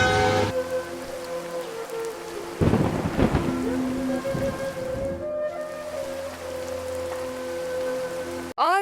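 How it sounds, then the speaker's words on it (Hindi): Thunderstorm with heavy rain pouring steadily onto the ground, a loud rumbling thunder roll building in the middle over constant hiss of rain, with a sharp crack of thunder at the very end. "बिजली तड़कने लगी और फिर तेज बारिश की पहली फुहारें धरती पे गिरने लगी।"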